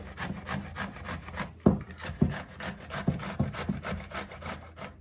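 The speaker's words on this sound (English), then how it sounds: "So we will just grate it, the whole thing." Bottle gourd is rubbed against a grater in a quick, regular back-and-forth rhythm of raspy scraping strokes, close and fairly quiet, with a few sharper knocks and no talking.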